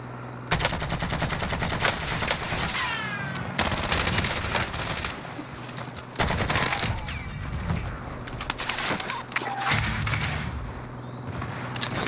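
Rapid automatic gunfire in a Call of Duty Warzone solo battle royale match, loud bursts of repeated shots in several runs with brief gaps between them, close and dense throughout.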